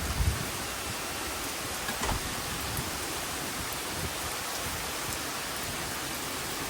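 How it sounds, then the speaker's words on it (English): Steady summer rain falls during a thunderstorm that arrived with sudden darkness and strong wind, a dense even hiss with a few louder bumps, heard alone with no talking. "all of a sudden it got kind of dark outside and really windy, and a big thunderstorm rolled in"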